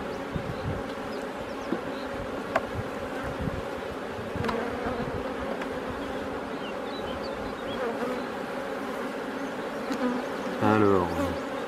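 Honey bees hum in a steady, dense drone around an opened hive, close and continuous, with a brief voice near the end.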